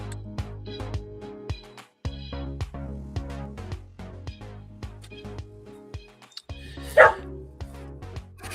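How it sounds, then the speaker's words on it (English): A dog eating and letting out a few short barks near the end, one clear loud yip standing out over a busy background of watch-party noise and music. "The way he barks when he eats is hilarious"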